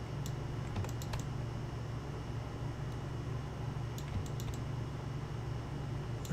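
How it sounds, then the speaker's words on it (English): Steady typing on a computer keyboard, with soft, rapid keystrokes running throughout over a constant low fan-like hum; a few sharper clicks stand out at intervals. "I was typing to my daughter."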